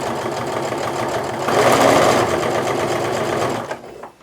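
A sewing machine stitches binding onto a canvas apron, a steady rapid mechanical whirring that grows louder midway and stops near the end, with no talking.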